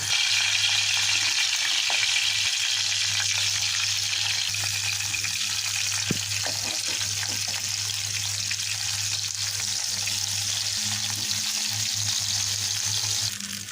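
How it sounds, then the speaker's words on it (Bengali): Steady, loud sizzling of rohu fish frying in hot oil until browned, a continuous crackling hiss with occasional pops, close up and without any talking. "এখন মাছগুলো দিয়ে দেবো, দিয়ে বাদামি করে ভেজে নেব"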